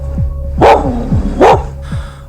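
A pet dog named Karma barks twice at night, two loud close barks about a second apart, with steady low hum and faint soft sounds between them.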